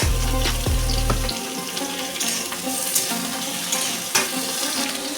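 Gourd stems and cut potatoes frying in a pan, a crackling sizzle with scattered pops and spatters after a brief low hum at the start, close and continuous.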